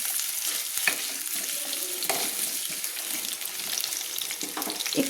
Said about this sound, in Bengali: আমি 1 মিনিট মতো একটু তেলে ভেজে নিচ্ছি